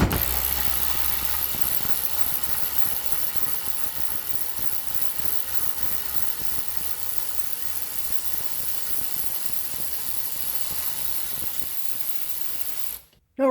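A KIMO 12V cordless 3/8-inch ratchet runs continuously for about thirteen seconds, a steady close buzzing whir with a rapid clicking texture, then cuts off abruptly.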